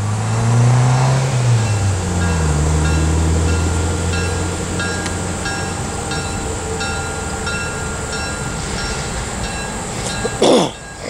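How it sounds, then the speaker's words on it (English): A Cuyahoga Valley Scenic Railroad passenger train pulls away from a station in Ohio, with a diesel engine's low droning rumble and rising tones at the start, steady wheel noise after, and a sharp, loud burst near the end. "CVSR train 14 north, departing Bostonville."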